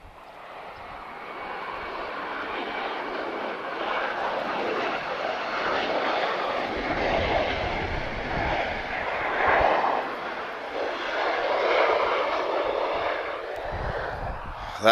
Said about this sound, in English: This is a 767-200 freighter, Star Air. So she's going to climb like a rocket